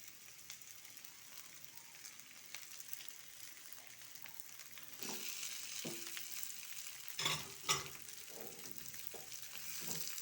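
Dried chili powder and mashed potato sizzle softly in a pan, a quiet continuous fry with a few louder stirring scrapes and clacks in the second half.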